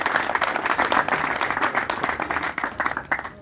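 Audience applause at an evening talk in honour of a father, steady dense clapping from a crowd filling the whole stretch without a break.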